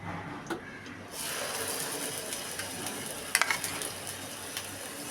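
Ground onion paste hits a pan for a Bengali chicken roast, the sizzle swelling suddenly into a steady bright hiss with a few sharp spatters partway through; no talking.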